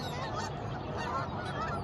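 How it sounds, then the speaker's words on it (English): Geese honk continuously while flying in V formation over a river preserve at breakfast time, a dense, distant-sounding chorus of overlapping honks with no gaps. "We see geese flying in their V formation, trumpeting to one another as they head off in search for breakfast."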